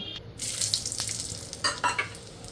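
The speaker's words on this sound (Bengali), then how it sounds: "জিরে ফোড়ন, গোটা জিরে।" Whole garam masala and cumin seeds tempering in hot oil for a Bengali chicken curry and muri ghonto, a steady close sizzle with brief louder crackles and spits, no talk.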